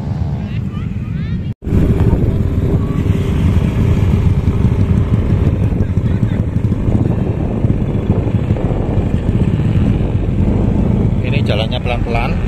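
A Yamaha NMAX scooter rides slowly through thick sand near Mount Bromo, its engine droning steadily and close under loud wind buffeting, with a brief dropout early on and a person talking at times.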